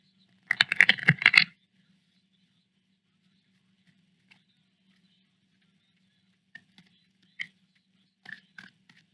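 Tarot cards being shuffled: a brief, quiet burst of rapid riffling flutter early on, then a few scattered soft card taps in near silence.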